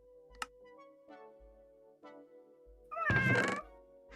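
A cat meows once, short and clear, over quiet background hum with a couple of faint knocks before it, heard during Minecraft play.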